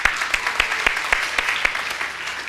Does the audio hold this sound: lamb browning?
no